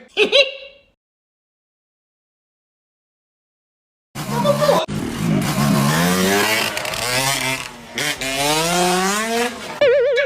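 A motorcycle engine revs hard after a long silence, its pitch rising and falling through repeated throttle bursts, loud and close.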